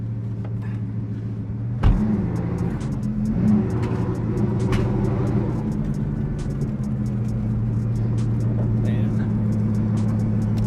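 A turbocharged Bugatti Veyron engine with a titanium exhaust drones steadily with a deep, throaty exhaust note, heard from inside the car, with a brief thump near the start.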